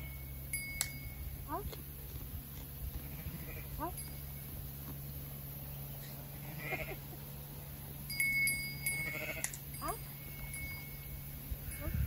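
A flock of sheep in a mountain village bleats faintly and intermittently over a low steady background hum, with a few soft distant calls and light rustling.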